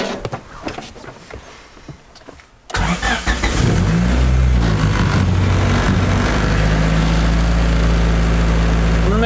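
An EK-generation Honda Civic cranks briefly after a quiet stretch, catches, and settles into a loud, steady idle that carries on to the end, with no voices.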